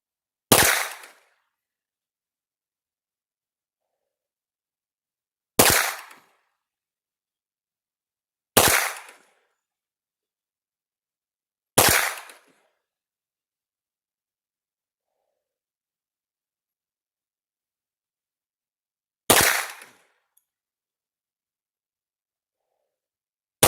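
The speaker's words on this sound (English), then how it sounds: "let's get the last 7 rounds and see how she does" Five sharp, loud pistol shots from a Colt 1911 at an outdoor range, spaced unevenly several seconds apart with silence between, each a crisp crack with a short decaying tail.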